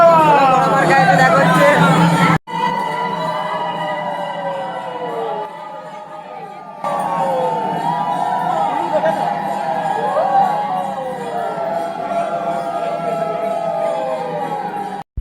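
Dense crowd hubbub fills the interior of a busy temple, a steady mass of overlapping voices and chatter at close range, briefly cutting out and dipping before the murmur returns just as thick.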